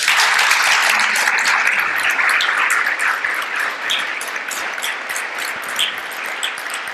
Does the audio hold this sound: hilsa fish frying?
no